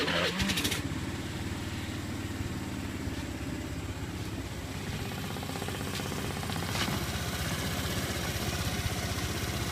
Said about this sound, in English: Good old fuel injected Honda engine, can't beat it.